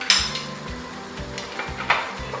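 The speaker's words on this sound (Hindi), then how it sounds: "बीच में चम्मच चलाते हैं।" A metal spoon clinks and scrapes against a cooking pot while stirring shola, a thick dal-and-rice dish, with a few sharp knocks over a soft sizzle and no talk.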